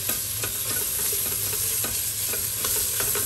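Tomato puree and vegetables are stirred in a pan over low heat, with a steady sizzle of frying beneath repeated scraping strokes of a spoon, close and without talk.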